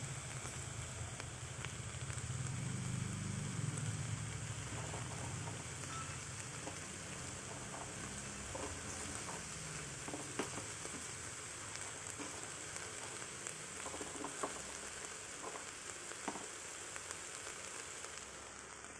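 Moringa flowers fry in a pan with a steady, continuous sizzle and crackle that runs unbroken throughout, with no talking over it.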